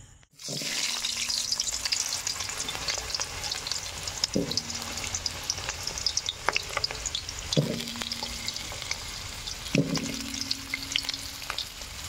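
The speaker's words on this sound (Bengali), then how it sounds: "আলুগুলো একটু অল্প করে ভেজে নেব লাল লাল করে" Potatoes frying in hot oil in a kadai for a chicken curry make a loud, continuous sizzle close up, broken every few seconds by the clank of a spatula stirring them.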